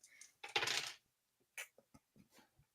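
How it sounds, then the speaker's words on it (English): Dice rattle and tumble across a table in a tabletop campaign game, one loud clattering roll followed by several quick lighter clicks as they settle. "I am here to roll dice"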